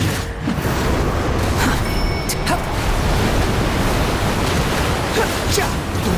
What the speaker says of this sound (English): The wind rises.